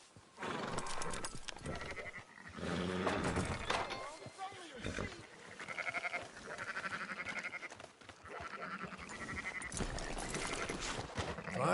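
Wavering sheep bleats in the video game Red Dead Redemption 2 sound repeatedly, loud and close, mixed with other animal noises and some voices.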